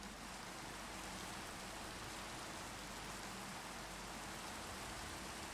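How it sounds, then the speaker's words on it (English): Steady rain in Minecraft patters and hisses continuously at an even level, with no voices or other sounds. "It had to rain, didn't it?"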